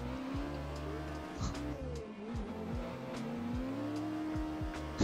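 A pro competition drift car in the Assetto Corsa racing game, engine revving up and down in rapid shifts with repeated tire squeals as the car flicks through transitions, loud and continuous.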